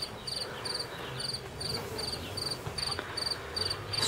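A newly formed honeybee swarm cleans a queen smeared with honey, giving a close, steady insect hum with regular high chirping pulses repeating throughout, no voices.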